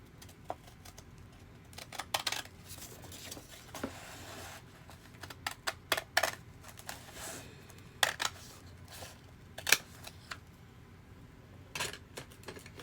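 Scissors snipping through paper pages, cutting them in half, as a scattered series of sharp, fairly quiet crisp cuts and rustles with irregular pauses between them, close by and with no talking.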